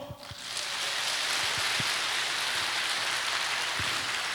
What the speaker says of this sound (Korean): 감사의 박수로